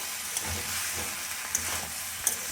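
Onion stalks frying in a pan give a steady, moderate sizzle, with occasional faint clinks and stirring sounds. No voices.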